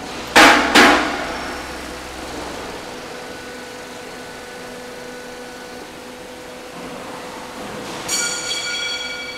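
A C/Z purlin roll forming machine cuts steel purlin of 5 mm thickness. Sharp metallic clanks come at the start and again near the end, over a steady mechanical hum, with no talking.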